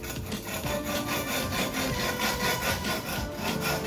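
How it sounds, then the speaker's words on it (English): Knife blade scraped back and forth across a rough-grit diamond sharpening stone, close and steady, with continuous gritty rasping strokes and heavy abrasion, no voices. "Already by the noise you can hear that I use a very rough grit with a lot of abrasion here."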